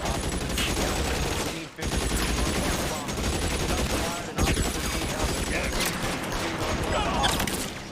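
Sustained gunfire in L.A. Noire, dense overlapping shots and bursts filling a loud firefight, with two brief gaps in the shooting.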